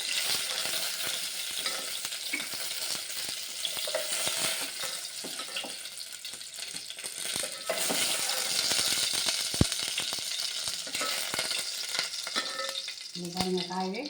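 Eggplant sautéing in an oil-coated pan for a Tamil kathirikkai thokku, a steady dense sizzle with occasional stirring scrapes and clinks, close and continuous throughout.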